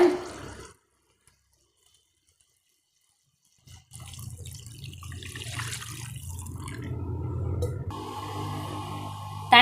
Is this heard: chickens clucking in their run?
no